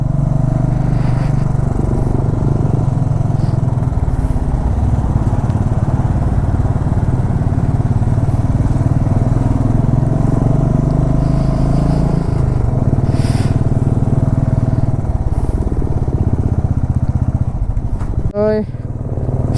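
Motorcycle ridden near Kaza in Spiti Valley: a loud, steady engine drone with rumbling wind noise close up, running throughout, with a person talking over it.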